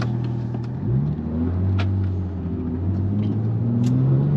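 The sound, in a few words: Porsche 911 991.2 and C7 Corvette accelerating in a roll race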